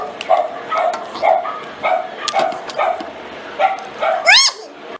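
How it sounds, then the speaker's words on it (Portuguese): Several dogs barking repeatedly at a steady pace, fairly loud and close, with a rising whine near the end and someone speaking underneath. "Os cachorros vão começar a latir de novo."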